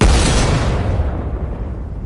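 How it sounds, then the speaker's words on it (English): A single loud, close gunshot-like boom opens a horror story narration, then decays into a rumbling tail over about two seconds with no speech. "Gunshots rang out."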